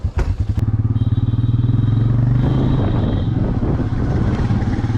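A Royal Enfield motorcycle being ridden on the road in Agartala, its engine thumping in a steady, loud, close rumble throughout, with a brief clatter at the start.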